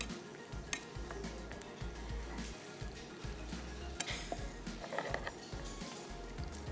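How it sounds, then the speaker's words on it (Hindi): Sliced onions frying gently in a pan, a soft continuous sizzle with light crackles and occasional stirring scrapes, fairly quiet and steady with no talking. "प्याज को किया स्लाइस और इसको हमने बहुत ज़्यादा फ्राई नहीं करना है"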